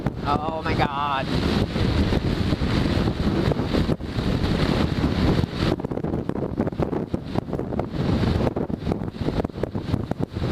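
Strong gusty wind roars and buffets a microphone outdoors near trees during a bike ride, loud and continuous with fluctuating intensity and no clear talk.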